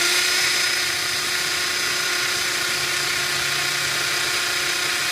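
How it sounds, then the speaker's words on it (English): An electric drill whirs at a steady high pitch for several seconds, loud and close, with no voices, drilling holes during a boat toilet replacement. "so let's drill the other 3 holes"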